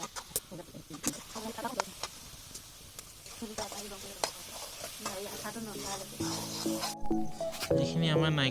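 Coconut and sugar frying in a pan for laddoos, stirred with steady scraping over a soft sizzle, close by, while voices and other background sounds rise toward the end.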